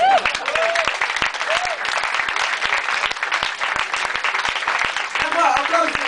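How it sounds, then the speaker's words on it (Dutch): Audience applause at a live concert at Noorderslag 2007, a dense burst of many hands clapping that carries on throughout, loud and close, with a few whoops mixed in. "Applaus voor jezelf."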